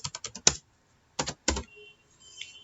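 Code is typed on a computer keyboard: a quick run of crisp, close keystrokes, a pause, then a few more taps, with faint quiet between.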